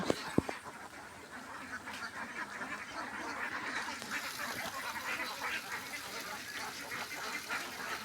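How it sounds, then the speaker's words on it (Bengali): Ducks at a farm housing about 360 birds quack faintly in the background, a continuous low flock chatter with a couple of sharp knocks near the start. "এখানে হাঁস থাকে"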